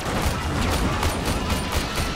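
Dense, continuous gunfire from the Warframe video game during a defence mission on Venus, rapid bursts blending into a loud, unbroken barrage with no voices.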